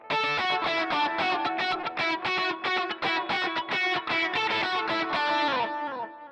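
Electric guitar lead played through a Line 6 Helix multi-effects processor, a continuous run of fast distorted picked notes with chorus and effects, loud and alone with no talking.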